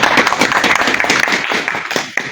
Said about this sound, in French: Donc, on va applaudir pour l'artiste Longuet.